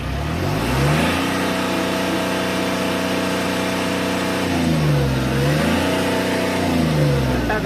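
An Ashok Leyland Dost light truck with an accelerator pedal fault is revved up from idle and held at a steady raised speed, then dips and rises again. The engine drone is loud and close, with no talk.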